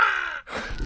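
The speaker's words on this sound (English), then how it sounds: "I can hear a bird in the background actually." A bird calls on the River Wye, giving a short harsh caw-like cry, then a brief gap and a second rougher call, heard against quiet outdoor background.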